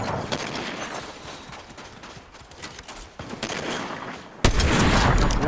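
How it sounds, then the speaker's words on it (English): Bursts of rapid gunfire in an online team shooter game, fusillades of crisp shots at mid distance, ending in a louder, denser volley of fire. "Someone else is shooting"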